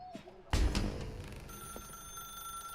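A telephone rings in the video game The Stanley Parable, a steady, bright electronic ring that begins partway through after a heavy thud, close and clear with no talk.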